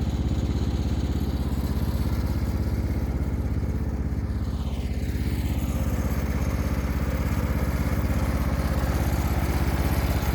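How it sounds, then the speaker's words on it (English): A 1975 Cub Cadet 1000 garden tractor mows a lawn, its engine running at a constant, loud, close chugging drone with steady mower-deck clatter throughout. "I'm going to show you real quick here of the even mowing job it has"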